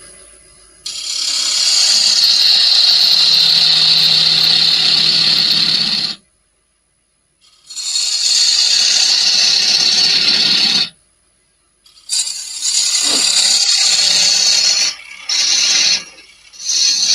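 A wood lathe turns while a small ball gouge cuts the spinning wood, giving loud bursts of hissing, scraping shavings separated by short pauses as the tool is lifted away.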